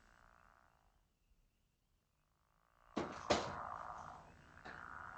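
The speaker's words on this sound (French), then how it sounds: "je vais vous refaire entendre un chant de grenouille des marais pour que vous puissiez comparer" A recorded pickerel frog call plays back, opening faint and quiet, then a louder burst of low snoring croaks with sharp clicks after a near-silent pause.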